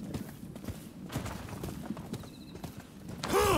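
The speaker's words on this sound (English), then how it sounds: "Onto the horse we go." Horse hooves clip-clop steadily in Rise of the Ronin as the rider mounts up and moves off, with game sounds and a rising tone closing the clip.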